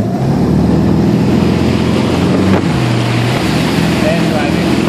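A motorboat engine roars steadily and loud, pulling a rider at sunrise, with a continuous heavy drone and water rush throughout.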